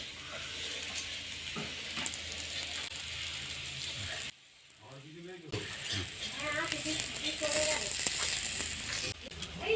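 Pieces of bitter gourd go into hot oil for a potato dish, and a loud, continuous sizzle of frying fills the scene. After a brief dip the sizzle swells again, with a voice briefly heard beneath it.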